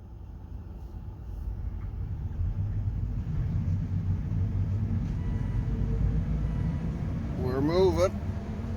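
A Volvo V50 converted to a Tesla Model 3 drive unit pulls away with a steady low rumble and electric motor hum building under the cabin, ending in a brief rising whine near the end; people talk over it.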